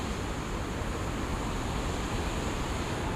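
Water pouring through opened dam gates, a continuous broadband roar like heavy surf, steady and unbroken throughout, with no voices.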